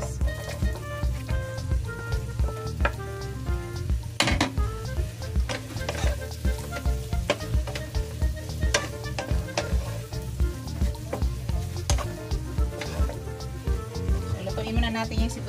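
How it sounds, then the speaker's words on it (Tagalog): Onions frying in a pan for a salmon dish, a dense steady sizzle with frequent crackling pops and spatula scrapes, while a person talks over it throughout. "lutuin muna natin yung sibuyas"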